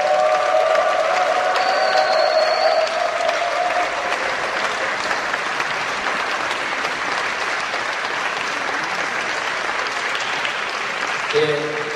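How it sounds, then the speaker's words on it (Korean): Sustained applause from a congregation fills a Korean holiness church anniversary service and president's inauguration, dense and even for the whole span, with faint voices mixed in. "기쁨의 박수가 주십니다"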